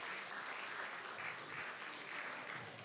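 An audience at a live running-race prize ceremony in Pardubice, Czech Republic, applauds steadily, a dense wash of clapping that continues evenly throughout at moderate distance.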